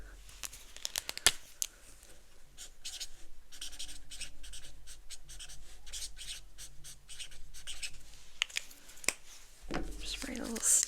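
Pen writing on a small sticky note, a run of quick scratchy strokes in bursts over several seconds, close and soft, with brief paper rustles and crinkles near the end.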